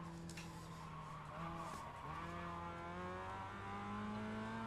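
An iRacing Mazda MX-5 Cup race car skids as the rear steps out, its tires scrubbing under a steady, droning engine note that shifts pitch midway, continuous and fairly quiet throughout.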